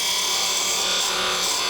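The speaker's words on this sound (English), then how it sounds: "Use our parting tool, come in." A parting tool cuts into a spinning wooden blank on a lathe while making a drink cover, giving a steady, dense, scraping hiss that runs unbroken and loud throughout.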